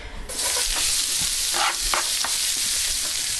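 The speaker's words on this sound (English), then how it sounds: "we'll throw that in with the onions and the mushrooms. We're going to get everything sauteed together." Garlic, onions and mushrooms hitting hot oil in a pan and stirred with a small wooden spoon, a loud dense sizzle that swells up after a brief quiet start and holds steady with soft stirring bursts.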